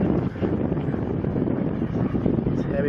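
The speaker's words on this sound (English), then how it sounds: "It's heavy wind, you can feel it in the video camera." Strong wind of about 20 knots buffets the camera microphone aboard a boat, producing a steady, loud roar with gusty fluctuations throughout. A faint voice can be heard beneath it.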